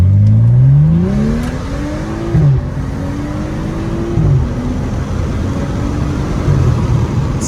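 BMW car accelerating hard from a complete stop toward 160, engine note climbing steeply through rapid upshifts with brief dips between gears, loud and close over steady road and wind roar.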